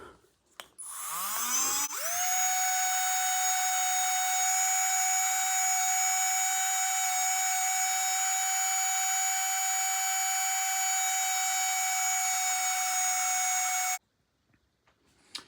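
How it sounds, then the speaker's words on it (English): A small electric air pump sucks air out of a packing bag, starting with a rising whine that settles into a loud, steady high-pitched drone lasting about twelve seconds before cutting off abruptly. "when the pump was still there, I just sort of had to push down a bit just to get some of that other air out of there"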